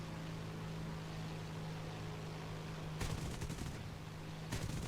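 Two short bursts of rapid machine-gun fire from a P-38K aircraft in War Thunder crackle over a constant engine drone, the first burst longer than the second, with no talk.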